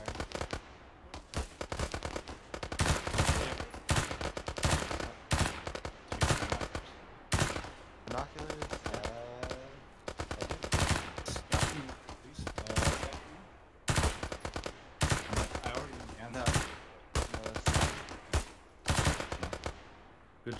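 Dense, sustained gunfire from an ArmA 3 firefight in a Western Sahara setting, with rapid overlapping bursts and single cracks rattling almost continuously for twenty seconds, loud and close, with brief radio-style voices faintly underneath.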